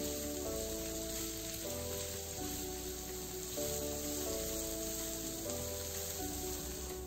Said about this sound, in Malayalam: രണ്ട് സവാള ഇതുപോലെ നീളത്തിൽ അരിഞ്ഞതുകൂടി ചേർത്ത് കൊടുത്ത് ഇത് ഗോൾഡൻ ബ്രൗൺ നിറമായി വരും വരെ വഴറ്റിയെടുക്കണം